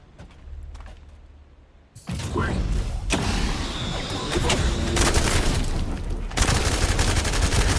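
Sustained, loud weapon fire in the sci-fi shooter The First Descendant, a dense, continuous barrage with mechanical clatter and booming impacts as enemies are shot at close range.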